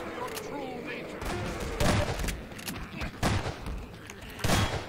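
Gunfire in the video game Half-Life 2 comes as several muffled shots spread through a cave fight, heard beneath a player's voice and other game noise.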